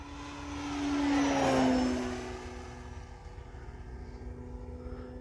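An FMS Pitts V2 RC plane makes a full-throttle high-speed pass, its propeller and engine whine swelling as it approaches, peaking with a falling Doppler pitch as it goes by, then fading into the distance.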